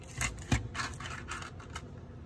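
Small cutters snip the end off a wire during a golf cart voltage reducer installation, giving faint, close scratchy clicks and rustles with one sharper snap partway through.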